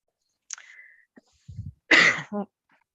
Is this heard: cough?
yes